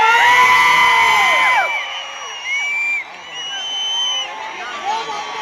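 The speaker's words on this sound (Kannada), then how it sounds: "ನಿಮ್ಮೆಲ್ಲರ ದೊಡ್ಡ ಚಪ್ಪಾಳೆ ಬರಬೇಕು" Live audience at a Kannada stage show cheers, whoops and shouts as a singer comes on, a loud dense crowd roar that dips briefly midway and swells again, with high voices yelling above it.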